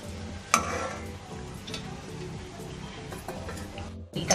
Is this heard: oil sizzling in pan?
yes